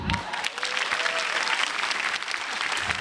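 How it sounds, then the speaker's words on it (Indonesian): Studio audience on the Indonesian TV stand-up comedy show SUCI 8 claps continuously throughout, a broad, even wash of many hands at moderate loudness with no break. "Sekali lagi boleh tepuk tangan buat Bintang Timur"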